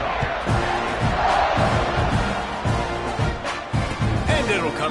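A football stadium crowd at a Louisville versus Texas A&M game roars loudly and continuously as the defense takes the field, with a commentator talking over the din.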